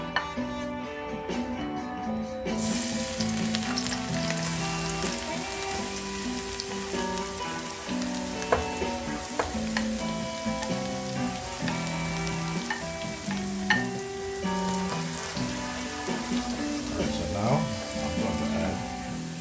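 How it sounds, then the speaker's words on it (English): Minced garlic and then onions frying in a pot for Jamaican rice and peas, a loud, continuous sizzle that bursts in after a quiet start, with scraping and clinks of a utensil stirring throughout. "first I'm going to put the garlic, minced garlic, inside of the pot, and then followed by the onions."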